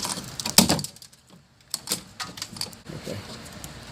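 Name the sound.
pushing out a BMW front door lock actuator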